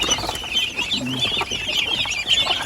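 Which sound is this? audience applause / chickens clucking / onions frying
chickens clucking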